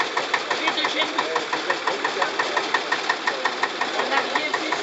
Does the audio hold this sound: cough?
no